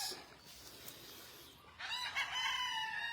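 A young gamecock stag crows at a game farm in Magsaysay, a drawn-out cock-a-doodle-doo rising midway through, moderately near over faint outdoor background noise.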